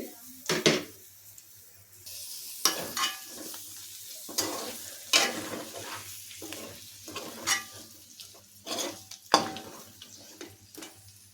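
Chicken fry sizzles softly in a pan while a spoon stirs it, scraping and clinking against the metal in repeated strokes, close and moderately quiet.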